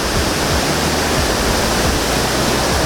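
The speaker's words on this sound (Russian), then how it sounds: "Вот он, водопад, его самая верхняя точка." A waterfall in Abkhazia, heard from its very top, roars in a loud, steady broadband rush with no breaks.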